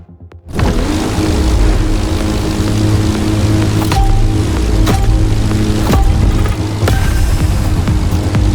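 The Red Bull race plane in The Crew Motorfest roars up from near silence into a loud, dense, sustained engine drone with a propeller buzz, holding steady with small periodic clicks and one brief dip.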